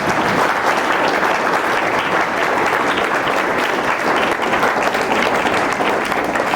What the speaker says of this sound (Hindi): एक बार जोरदार से मेरी तालियां हो जाएंगी।